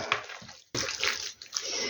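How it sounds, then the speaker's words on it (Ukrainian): Water, about 70 ml, pours into 500 g of minced meat filling for meat crepes, a brief splashing, trickling gush with a short pause partway through, close and with no talk. "Трошечки ще води додам"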